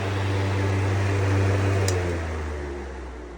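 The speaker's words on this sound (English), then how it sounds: "that's basically what happens when you put a Samsung motor on a big fan blade like this" A Samsung electric motor spinning an oversized fan blade makes a loud steady whooshing hum with a low drone that slowly winds down toward the end, no speech.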